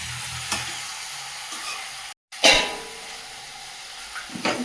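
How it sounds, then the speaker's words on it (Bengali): Cut potatoes sautéed and stirred in a hot pan for a pressure-cooker dish, with steady frying sizzle, spoon scrapes and a brief gap followed by a louder burst of hissing. "ভালো করে কষিয়ে নেবো।"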